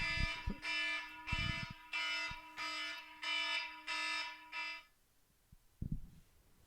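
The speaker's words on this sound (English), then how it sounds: "That's the timer for the first half." A timer marking the first half of a session sounds a loud, harmonic electronic beep in about seven even pulses, then stops abruptly, leaving near silence and a single soft knock.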